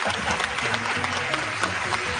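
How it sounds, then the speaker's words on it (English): Applause from a studio audience on a sports talk podcast, a dense steady patter of many hands filling the short stretch, with voices mixed in underneath. "Give yourself a round of applause."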